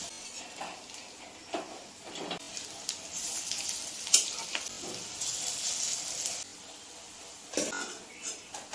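Cumin seeds and potatoes sizzling in hot oil in a wok, a soft steady crackle with occasional sharper pops and stirring scrapes, fairly quiet.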